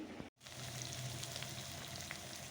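Marinated chicken sautéed in a wok with oil, turmeric and spices produces a quiet, even frying hiss with light crackles, broken by a very brief dropout near the start.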